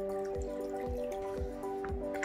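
Water poured into a cooking pot while making mutton curry, a steady filling trickle with repeated low dripping splashes about every half second, close and continuous throughout.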